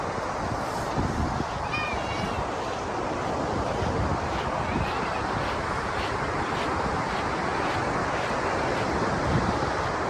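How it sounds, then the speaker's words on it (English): Gullfoss waterfall in Iceland gives a steady, dense roar of cascading water into a canyon, with wind buffeting the microphone and a brief faint voice. "you can hear the falls from probably a quarter mile away that we are"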